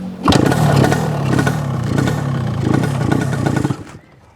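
A Yamaha RX-King two-stroke motorcycle fires up close by and pulls off slowly, its engine buzzing and rattling with a worn clatter before cutting away at the end.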